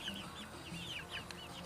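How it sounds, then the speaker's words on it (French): Small chicks peeping in high, quick chirps alongside their mother hen's low, soft clucks, faint and close, with no talk. "ce sont mes premiers poussins. Un petit piou avec leur maman."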